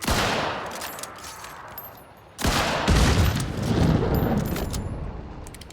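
Gunfire in the video game Hunt: Showdown, loud close shots bursting out with a sharp onset midway, a dense crackling volley that follows an earlier rumbling stretch, with no talk.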